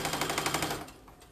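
A sewing machine runs a quick burst of rapid, even stitches along an apron hem, then slows and stops, leaving a faint quiet tail.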